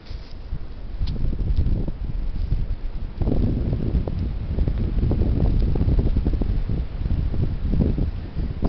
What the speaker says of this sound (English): Hopefully I'll make it home without getting blown away by this heavy wind.